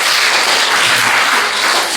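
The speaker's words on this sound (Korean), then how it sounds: "박수 한번 해주세요." A church congregation at a Friday worship service applauds, loud and close, a dense wash of clapping filling the whole moment.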